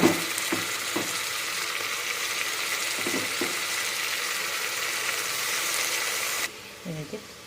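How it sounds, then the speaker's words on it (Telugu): Ground mint paste and peas fry in hot oil for a mint pulao, giving a loud, steady sizzling hiss with a few soft knocks. The sizzle drops off sharply near the end, leaving quieter low thuds. "ఇదైతే పచ్చివాసన పోయేంత వరకు వేయించుకోవాలి"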